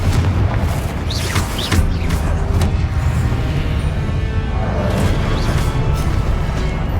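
A Confringo blasting spell detonating in the video game Hogwarts Legacy, a loud, sustained booming roar with crackling debris that fills the whole stretch without letting up.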